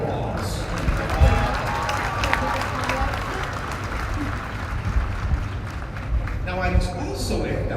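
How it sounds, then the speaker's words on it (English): An audience at a graduation ceremony breaks into sustained applause, a dense wash of clapping that continues for several seconds in a large hall, with some murmuring voices mixed in. "let's give all of them a round of applause"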